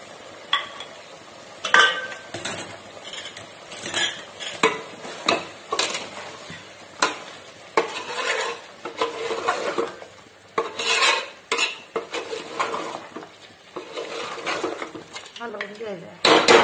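Masala being stirred in a cooking pot for chicken curry, repeated scraping and clinking of a spoon against the pot in an uneven rhythm, with a soft sizzle underneath.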